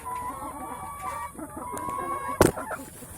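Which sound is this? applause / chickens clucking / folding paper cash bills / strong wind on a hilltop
chickens clucking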